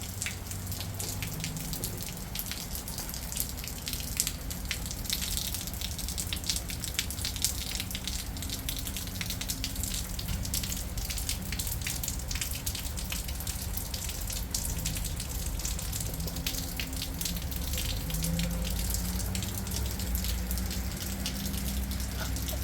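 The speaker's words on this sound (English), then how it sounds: "Just a nice steady rain too." Steady rain falls on an Arizona day as a dense, even hiss of drops that holds constant and fairly quiet throughout, with no voices.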